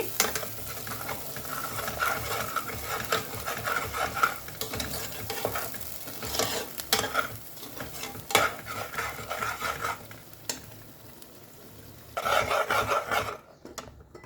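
Potato curry masala fries over a slow flame while a utensil stirs and scrapes through the pan, giving a steady soft sizzle broken by rasping strokes and occasional clinks.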